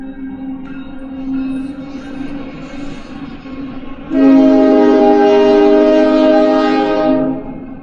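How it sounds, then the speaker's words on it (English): A train passing nearby with a loud sustained horn blast over a rumbling rail background, the horn starting halfway through and holding for several seconds before cutting off. "Train."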